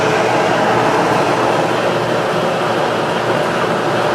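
A Kenmore electric clothes dryer with a newly replaced motor runs with a steady, loud mechanical rumble and a broad whooshing hum, continuous, like a machine tumbling nearby, with no voices.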